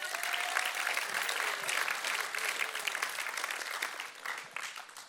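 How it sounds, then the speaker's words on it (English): Audience applause for a volunteer at a talk, a dense steady round of clapping from a crowd that holds loud for about four seconds and then begins to taper off. "Give him a round of applause."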